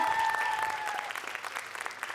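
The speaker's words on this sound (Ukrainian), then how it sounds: "Оплески вам!" An audience at a Ukrainian stand-up comedy show claps steadily, the applause filling the room and tapering slightly toward the end, with a brief tone at the start.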